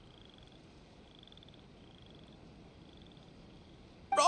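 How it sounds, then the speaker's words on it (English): Frogs croaking in Genshin Impact, a faint, evenly repeating series of trilled calls over a quiet background, ending in a sudden louder noise. "these are the two frogs we saw on the road a little while ago"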